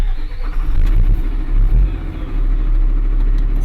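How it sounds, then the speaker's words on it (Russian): The 6-litre engine of a Ural timber truck roars with a loud, heavy low-pitched rumble close by. It swells slightly at moments and then settles into a steady, powerful drone. "Рев 6-литрового двигателя под капотом этого лесовоза привлекает к себе сотрудников лесопожарных центров."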